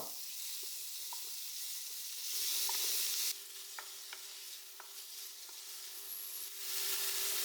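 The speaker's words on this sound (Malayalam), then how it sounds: "വെളിച്ചെണ്ണ ചൂടായി വന്ന ശേഷം ഇനിയിപ്പോൾ നമുക്ക് വലിയ ഉള്ളി ചെറിയ ഉള്ളി അത് രണ്ടും അരിഞ്ഞത് പച്ചമുളകും ഒക്കെ ചേർത്ത് അത് വഴറ്റിയെടുക്കാം" Chopped onions, shallots and green chillies sauté in hot coconut oil, giving a steady, close sizzle with scattered stirring scrapes and a few louder bursts, with no talking.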